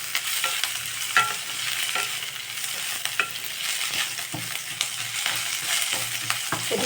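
Mint leaves sautéing in a pan, a soft continuous sizzle broken by frequent scraping stirs of the spatula, close by and fairly quiet, with no talking.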